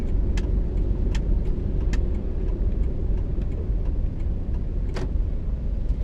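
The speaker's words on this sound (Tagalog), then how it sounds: "nag apply pa rin ako ng pressure sa ating gas pedal para umandar ng uh, mas mabilis yung ating sasakyan" A car's engine hums steadily from inside the cabin as it pulls through a U-turn, with a few sharp ticks of the turn signal over the constant road rumble.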